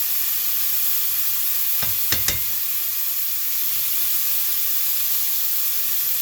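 Butter melting in a hot pan while preparing surf and turf, giving a steady close sizzle and hiss throughout, with a couple of brief sharper crackles or clinks near the middle.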